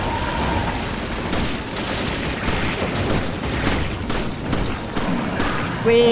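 Rapid bursts of machine gun fire in the video game Resident Evil 5, loud and dense, blending with booms over several seconds of sustained shooting.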